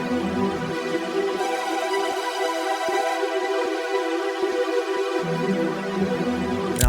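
A hip-hop beat melody run through the Portal plugin's digital tape toys effect, a dense sustained harmonic texture with shimmering upper partials that thins in the low end midway and fills back in, playing alone without talk.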